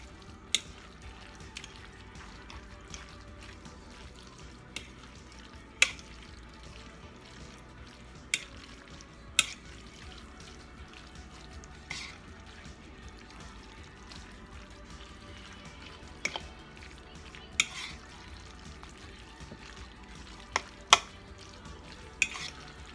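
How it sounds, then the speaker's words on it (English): Ragu spaghetti sauce is stirred in a pan with a soft, continuous wet churning, punctuated every few seconds by sharp clinks of the utensil against the pot. No one speaks. "And just a little ragu spaghetti sauce. I'm going to mix it up real good."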